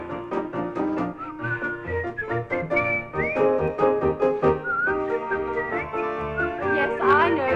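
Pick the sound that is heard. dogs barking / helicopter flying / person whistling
person whistling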